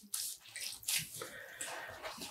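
Water splashes and drips as freshly dyed cotton yarn is squeezed by hand, a few quick wet gushes close up and fairly quiet.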